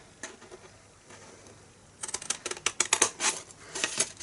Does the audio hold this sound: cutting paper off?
yes